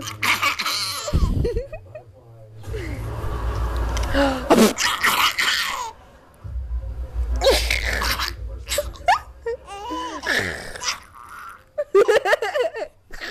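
Sneezes, apparently an adult's, come several times in sharp bursts separated by pauses, with a baby's giggles and laughter following in between.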